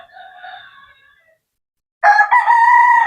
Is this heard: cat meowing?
no